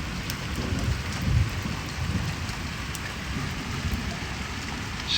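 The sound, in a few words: heavy rain falling in Dujail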